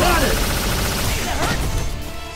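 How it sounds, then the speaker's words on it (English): Proton cannon super attack in Marvel vs Capcom, a loud sustained blast of crashing, gunfire-like energy filling the whole clip with harsh noise, while a game voice shouts over it. "Proton cannon!"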